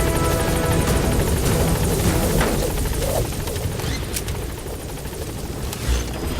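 A helicopter lifting off in the video game Metal Gear Solid V: The Phantom Pain, a loud, continuous rotor drone and engine roar with scattered distant gunfire bursts, easing slightly toward the end.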